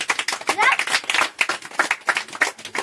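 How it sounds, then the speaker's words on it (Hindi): A group of schoolchildren claps together for a classmate's good answer, a loud, dense and uneven patter of many hands up close, with voices mixed in. "जो बच्चा अच्छा जवाब दिया है उसके लिए सब लोग ताली बजाइए"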